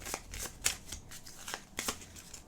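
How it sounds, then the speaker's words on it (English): A deck of game cards for Gloomhaven: Jaws of the Lion is shuffled by hand in a series of quick riffling bursts, close and crisp, repeating roughly every half second with no voices. "We shuffle them."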